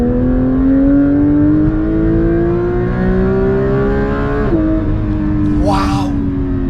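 A 992 Porsche GT3 engine winds up toward 9,000 RPM in a loud, close, steadily rising wail, drops sharply at a shift, then ends in a brief whoosh.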